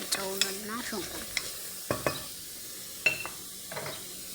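Onion, garlic and ginger cook with salt in a pan, giving a soft steady sizzle while a utensil stirs and scrapes the pan in scattered clinks and scrapes; the sound is fairly quiet and close, with no talking.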